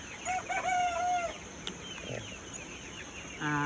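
A rooster crows nearby while hens cluck around it in a chicken coop, windy outdoor noise underneath as a typhoon approaches, and another crow begins at the end.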